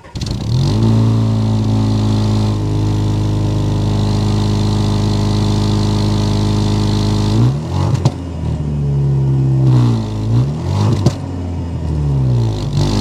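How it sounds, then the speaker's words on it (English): Turbocharged engine of a 2023 Land Rover Discovery S, heard close from inside as it idles with a steady low drone, then revs up and down several times with rising and falling pitch. "start it up so you can hear that exhaust note."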